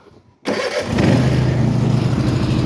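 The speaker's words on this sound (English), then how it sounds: "pull up on this, start her up" Bad Boy MZ Magnum 54 lawn mower engine turning over and catching after a short quiet moment, then settling into a loud, steady, close running drone.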